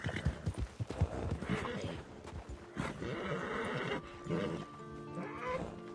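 Horse galloping in Red Dead Redemption 2: rapid, loud hoofbeats with repeated whinnies and snorts over game ambience, with faint voices in the background.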